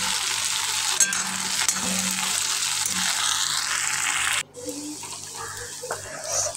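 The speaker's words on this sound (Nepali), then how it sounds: "त्यो भएर यस्तो मजासँग मैले यसलाई पर पारेर भुट्छु" Okra curry fries in a black iron kadai with a loud, continuous sizzle that drops away sharply near the end, leaving quieter crackles and light stirring.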